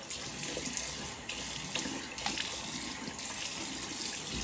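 Tap water runs steadily into a sink while alum is rinsed off after a shave, a continuous close splashing stream with small shifts in flow and no voices.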